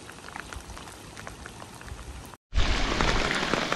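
Heavy rain pours down outdoors in the countryside, a dense steady hiss that briefly cuts out and then returns louder and closer, with no voices.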